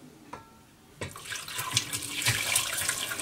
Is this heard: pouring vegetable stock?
yes